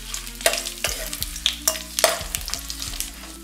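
Cinnamon, cardamom, fennel and bay leaf crackle in hot groundnut oil at the start of a chana masala. Repeated scraping and stirring strokes break up the sizzle.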